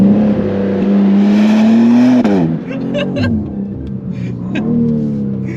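A BMW M2 drives hard and slides, its engine droning loudly at a steady pitch, then dropping and surging as the car skids, with tire noise mixed in.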